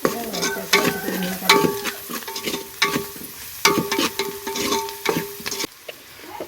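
Onion with salt fries in a pan on a wood-fired stove, with repeated scraping stirs and clinks over a continuous close sizzle.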